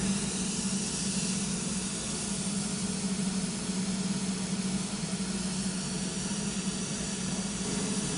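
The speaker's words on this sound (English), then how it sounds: "In a minute, you'll hear the mist start coming through the system." Aeroseal sealant mist hissing through home ductwork, a steady, continuous broadband hiss with a low hum beneath, holding evenly throughout without speech.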